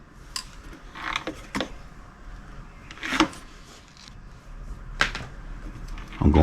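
Small metal clicks and scrapes as needle nose pliers work a cotter pin loose while installing Goldstrike twin rail floor boards on a silver Honda Goldwing, a few sharp close taps spaced irregularly over faint background noise.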